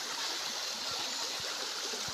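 Steady rushing water at Iringan Falls, a broad continuous wash of flowing water close by with a few low thuds underneath, no voices.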